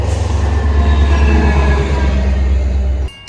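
Metra commuter train led by a MAC locomotive passing close by, a loud steady low rumble of wheels and cars that cuts off sharply near the end.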